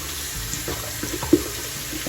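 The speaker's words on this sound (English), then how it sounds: "I'm now going to go ahead and rinse out her hair here" Water from a running tap splashes steadily over a doll's hair during a simple rinse in a sink, with soft irregular spatters and drips close by, and no talking.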